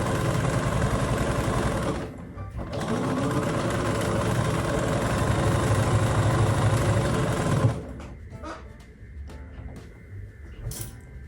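A sewing machine runs steadily and loudly while stitching quilt pieces together, a continuous mechanical whir with a brief dip near the start, then stops abruptly, leaving faint handling noises afterward.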